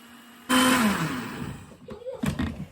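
A blender making mint paste whirs to life with a sudden loud roar, then the motor noise gradually settles and fades.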